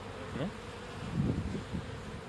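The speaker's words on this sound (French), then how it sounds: "la ruche de David commence à se réveiller là, il y a quand même un peu plus de monde" Honeybees buzz at a hive as it wakes up, a close, continuous droning hum with individual bees passing nearby.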